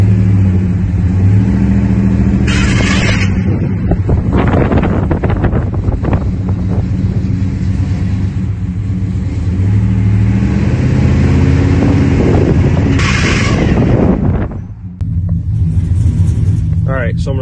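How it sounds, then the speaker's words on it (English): A car with a blown transmission runs after being shifted into gear, giving a loud, steady low engine rumble and drone that persists throughout, with brief harsher surges, while a person talks over it. "I think I just blew the trans, listen to this. It's in neutral right now, we put it in gear."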